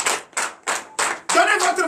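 A church congregation claps in acclamation during a night deliverance and prophecy service: four sharp, evenly spaced claps, then a denser, louder burst of crowd clapping with some voices mixed in.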